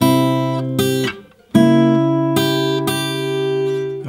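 Fingerstyle acoustic guitar plays measure three of a song in a chord-melody arrangement, sounding several ringing plucked chords and melody notes with a short pause midway, clear and close with no talking.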